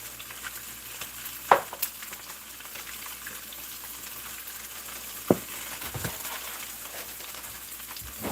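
Eggs seasoned with pepper fry quietly in a pan, giving a soft, steady sizzle with a couple of brief sharp clicks and scrapes.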